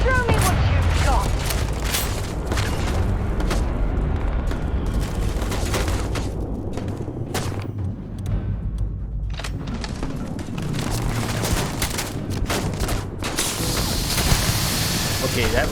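Rifle fire in the space game Starfield, loud bursts of shots and booms filling the scene, with a voice talking over parts of it.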